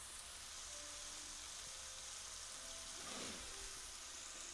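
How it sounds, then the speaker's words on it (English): Big Mac tacos sizzle in a pan with a steady broadband hiss that runs throughout, a slight surge around the three-second mark, and no voices over it. "Sizzling away."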